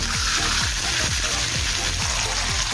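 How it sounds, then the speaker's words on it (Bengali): Water pours steadily into a pan with a continuous rushing splash, alongside a faint repeating low thump in the background. "এখন দেবো 1 কাপ পরিমাণে জল।"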